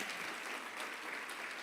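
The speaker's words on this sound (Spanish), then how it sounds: "Dale un fuerte aplauso al Señor" A church congregation applauding during a worship service, a continuous dense burst of clapping from many hands, steady and loud throughout.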